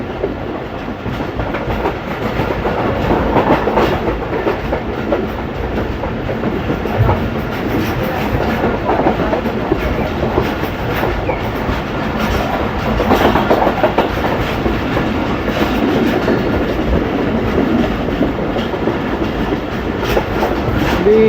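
A Pakistani passenger train runs along the rails near Khandrila railway station, a loud, continuous rumble with rhythmic clickety-clack from the wheels, heard from on board and without any voices.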